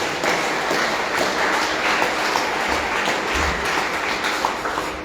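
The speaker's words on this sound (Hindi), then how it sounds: "सबके लिए आप लोग एक दूसरे के लिए ताली बजाइए।" An audience at a Srimad Bhagavad Katha religious discourse in Fiji claps continuously, a dense, even patter of many hands sustained throughout, with a few low thumps underneath.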